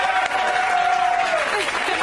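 Studio audience applauding for a talk-show guest, a steady dense wash of clapping and crowd noise sustained throughout, loud and close.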